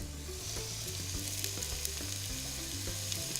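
Sweet Vidalia onions fry in olive oil with a steady, close crackling sizzle and scattered pops, while a utensil stirring through the pan adds faint clicks and scrapes.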